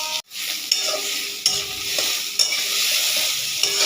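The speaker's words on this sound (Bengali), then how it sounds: "পেঁয়াজটাকে ভালো করে লালচে করে ভাজবো।" Onions fry in a pan with potatoes seasoned with salt and turmeric, a steady close sizzle broken by several sharp scrapes and knocks of a spatula stirring them.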